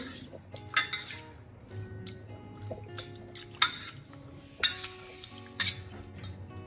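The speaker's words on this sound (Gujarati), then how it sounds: "ત્યાર પછી હવે આપણે એને મેસરની મદદથી આ રીતે મેશ કરી લઈશું" Boiled bottle gourd mashed with a masher in a metal pot, a series of sharp clinks and knocks every second or so over softer squishing, close and moderately loud.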